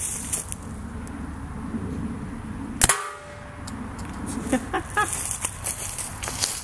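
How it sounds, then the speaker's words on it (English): A homemade PVC hairspray-powered pistol fires a Nerf dart at a paint can with one sharp, loud pop in the middle, set amid outdoor background noise and scattered light clicks and rustles. "So now, we're gonna fire a Nerf dart from this gun"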